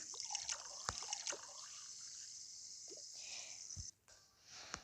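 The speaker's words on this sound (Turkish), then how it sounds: "Şunları yıkayayım şöyle." Running tap water splashing while dishes are rinsed in a home kitchen, a steady close trickle with occasional clinks and drips before the flow stops near the end.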